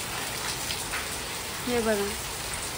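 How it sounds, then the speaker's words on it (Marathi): Heavy rain pours onto a porch, a dense steady hiss throughout with a brief voice speaking over it near the end. "तेवढ्यात एवढा मोठा पाऊस चालू झाला"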